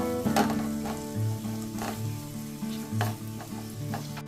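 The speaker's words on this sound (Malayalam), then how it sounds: "ഇതിലേക്ക് ഞാൻ ഇനി ചെറുതായി അരിഞ്ഞു വെച്ച ഒരു ക്യാരറ്റ് ഇവിടെയാണ് നന്നായി ഇനി വഴറ്റി കൊടുക്കണം" Finely chopped carrot sautéing in a pan for tutti frutti biryani, a steady soft sizzle broken by several short scraping stirs at intervals, fairly quiet and close, with no talk.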